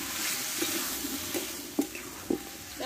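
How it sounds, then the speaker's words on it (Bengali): Chicken with spices and slit green chillies sizzles in a pan during a spicy kosha sauté, a continuous close hiss with a few soft stirring knocks spaced through it. "এবার চিকেনটা আমি দিয়ে দেবো, এবার একসঙ্গে ভালোভাবে কষে নেব"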